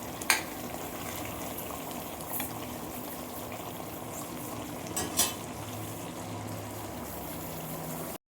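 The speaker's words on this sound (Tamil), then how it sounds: "தண்ணி ட்ரை ஆகிற வரைக்கும் வதக்கலாம்" Steady frying sizzle from a pan of quail egg and mushroom gravy with occasional scrapes and clinks of a spoon stirring, continuous and close.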